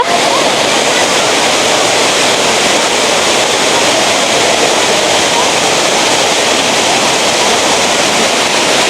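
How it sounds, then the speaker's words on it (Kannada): Jari Falls in Chikkamagaluru, a waterfall whose water roars in a steady, loud, unbroken rush from up close. "ತೋರಿಸ್ತೀನಿ ಇವಾಗ ನಿಮಗೂ ಫಾಲ್ಸ್."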